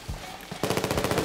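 Rapid gunfire from the video game Rubber Bandits, a team brawl match: a dense burst of repeated shots starting about halfway through and continuing steadily to the end, loud and close, after a couple of softer thumps.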